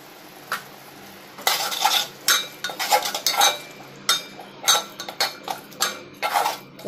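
Masala with chilli, coriander powder, cumin and salt is stirred and fried in a pan for an Odia crab curry: close, repeated scraping clinks of a spoon against the pan in uneven bursts over a faint sizzle, with no talk.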